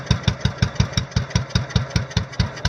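Murray riding mower engine idling just after a cold start with a little choke, a low, slow, uneven chugging with steady loud pulses, close up and alone.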